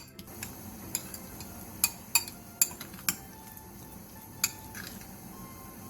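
A spoon mixes a seasoning paste of chili flakes, salted shrimp, minced garlic, soup soy sauce, soju and pepper in a bowl, producing sharp metallic clinks and taps at irregular intervals, close and clear without speech.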